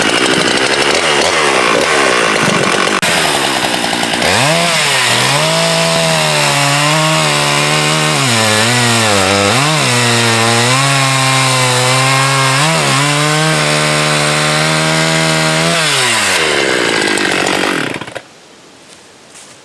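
An Oregon chainsaw with a dull chain cuts through a 12-inch log, its engine revving, bogging and rising repeatedly under load in a loud, close, continuous snarl before cutting off near the end.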